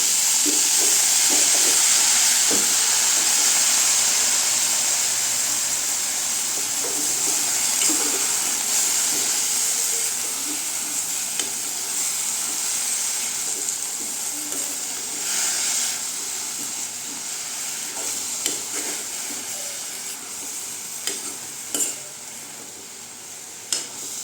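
Kumutti keerai greens sautéing in a hot pan, with a continuous soft sizzle and hiss broken by occasional stirring clicks and scrapes, no talking.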